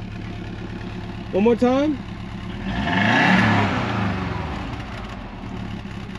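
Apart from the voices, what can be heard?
1997 Subaru WRX turbo engine revving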